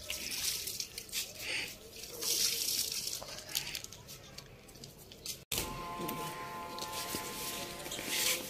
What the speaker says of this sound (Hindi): सबसे पहले मैंने कहा इनको पानी लगाती हूँ